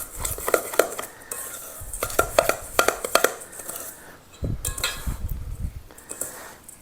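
A spoon stirs and scrapes Oreo cookie crumbs in a bowl for a pie crust, with repeated clinking and scraping strokes in uneven bursts, close and fairly loud.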